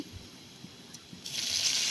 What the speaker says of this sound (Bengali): তো একটু পানি দিয়ে দিলাম